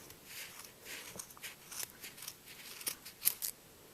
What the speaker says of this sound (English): I'm going to take my scissors and put it right through the sides here and